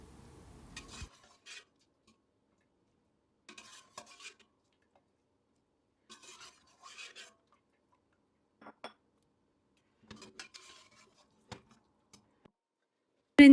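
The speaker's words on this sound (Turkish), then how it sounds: "etimi çorba tenceresinin içine alıyorum" Meat goes into a soup pot in a home kitchen, heard as sparse, separate clinks and knocks of utensils against cookware, quiet and close with long silent gaps between them.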